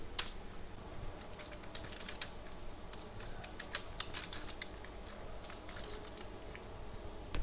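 Keys clatter on a computer keyboard as a program is typed out in a VM editor, a faint, quick, irregular stream of clicks with brief pauses, and no voices.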